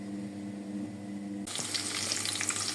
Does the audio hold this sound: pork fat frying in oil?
yes